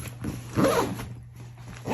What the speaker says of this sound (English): zippers work well. I haven't had any issues with the zippers binding.